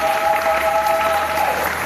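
Congregation applauding the Lord during a Congolese church service led by a bishop, a steady continuous wash of clapping from a crowd with a sustained organ-like tone underneath, no clear speech.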